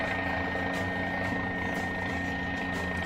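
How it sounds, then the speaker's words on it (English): A Guimbal Cabri helicopter in Microsoft Flight Simulator runs with a steady, droning rotor thump and engine whine, close and constant throughout. "This helicopter may not be the best one to use for here."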